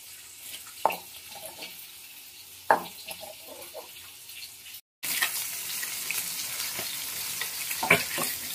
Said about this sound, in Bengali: মাছগুলো দেখো সব ভাজা হয়ে গেল